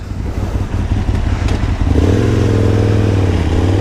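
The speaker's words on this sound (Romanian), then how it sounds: "acum am pus frână și s-a dus un pic motocicleta de spate, cu cauciucuri noi" Motorcycle on new tyres riding on asphalt, a steady close engine drone with road and wind rumble that swells louder and deeper partway through as the bike accelerates.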